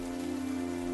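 Steady rain falls outside a village hut, a continuous even wash of sound that holds at the same level from start to finish with no voices.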